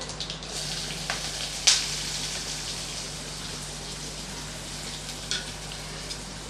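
Chopped onions hitting hot oil, a steady close sizzle and crackle of frying with a few sharper pops and spatters, heard alone without talk.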